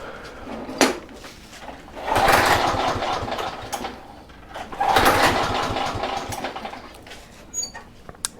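A Kohler small engine is pull-started after a shot of fuel into the carburetor, giving two loud bursts of sputtering engine noise with rattles and clicks between them, close to the listener.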